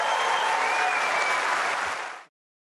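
Spectators in the stands break into applause, a full, steady roar of many hands clapping that holds evenly for about two seconds before cutting off abruptly.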